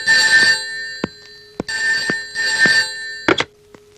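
An old-style telephone bell rings loudly in repeated bursts, with sharp clicks between rings and no talking.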